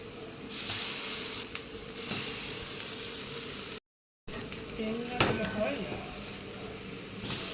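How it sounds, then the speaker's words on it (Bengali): Round slices of brinjal fry in oil with a steady close sizzle, broken by clinks and scrapes of a utensil against the pan and a short silent gap; someone talks over parts of it. "এই যে বেগুন কেটেছি গোল গোল করে, একটু গুলিয়ে নিচ্ছি, একটু ভেজে নেব।"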